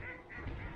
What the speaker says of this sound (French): Petit lac bien sympathique. Avec les canards.